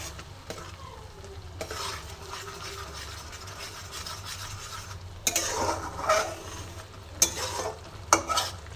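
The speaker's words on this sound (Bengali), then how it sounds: "একবারে আমি এখানে দিয়ে খুন্তি করে ভালো মতন নেড়ে নিলাম, যাতে এটা মশলার সাথে মিশে যায়।" A spatula scrapes and stirs yogurt into frying spices in a pan for barista chicken, a steady sizzle under repeated louder scraping strokes near the end.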